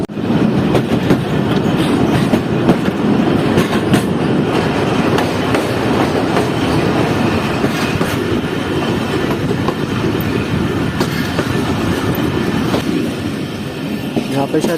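A Jand passenger train crawls slowly across the high Haru bridge, wheels clattering in a steady, loud rhythmic clickety-clack with rumbling carriages throughout, heard from inside the train with a voice talking over it.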